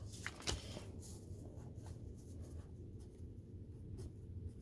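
Pen or marker writing on fabric to label underarm gusset pieces for a garment, a soft scratchy scrawl with a few short strokes, close and quiet over a steady low background hum, with no voices.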